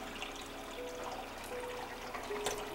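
200 ml of photo developer pours steadily into a developing tube, a continuous liquid trickle and stream heard up close with no talk.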